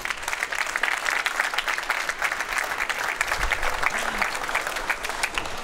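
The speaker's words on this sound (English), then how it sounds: "I would like to ask your support also for today for our official wrap-up to welcome to the stage with a very, very warm applause Krones CEO Christoph Klenk" Warm audience applause welcoming Krones CEO Christoph Klenk to the stage at the drinktec trade fair forum, dense sustained clapping from a sizeable crowd, loud and continuous throughout.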